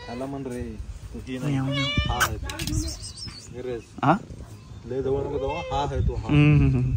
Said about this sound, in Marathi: ती मांजर आहे.